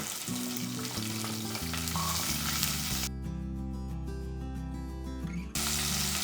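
Shallots, garlic and curry leaves frying in a pan, a loud, steady sizzle that carries on under background music.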